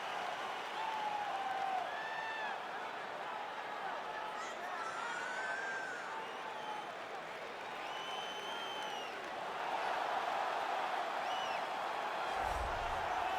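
A large crowd roars and cheers steadily throughout a simulated UFC 279 video game fight, a broad wash of noise with a commentator's voice faintly talking over it.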